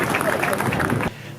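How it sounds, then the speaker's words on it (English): Audience applause for the President of the Republic of Ghana at a formal occasion, a dense burst of clapping that stops abruptly after about a second. "Ladies and gentlemen, a resounding round of applause."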